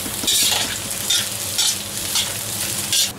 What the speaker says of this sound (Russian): В растительное масло я добавляю репчатый лук, имбирь, лук-порей